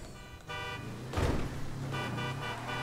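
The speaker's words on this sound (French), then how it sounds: "Et t'entends l'autre qui klaxonne là." A car horn sounds in the street traffic of the video game GTA 5, giving a few short toots over a steady engine hum, moderately distant and fairly quiet.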